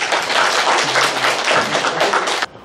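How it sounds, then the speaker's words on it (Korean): A lecture audience at a Buddhist temple gives a short, lively burst of clapping for a monk, many hands close by, cutting off abruptly after about two and a half seconds, with a brief voice underneath. "동명스님께서 크게 박수를 좀 주세요"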